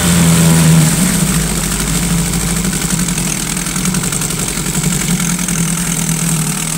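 A Johnson 2.5 outboard motor runs in a water-filled test bucket, a loud close buzzing putter that holds steady at idle after a brief higher rev at the start, with no talking.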